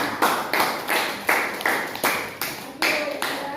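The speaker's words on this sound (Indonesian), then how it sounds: "Tepuk tangan dulu untuk Dinda." Classroom applause in a school lesson, with students clapping together in unison: about nine sharp, evenly spaced group claps in a steady rhythm, fairly loud and close.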